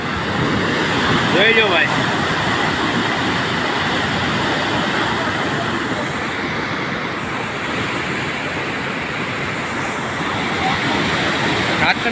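The flooded Ratarvadi river rushes loudly after heavy rain, a constant roaring wash of water with wind buffeting, while someone speaks briefly over it.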